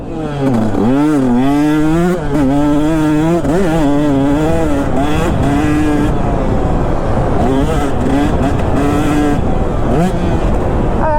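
Two-stroke dirt bike ridden hard around a track, its engine loud and close, revving and wailing through rising and falling pitch sweeps for the whole stretch without a break.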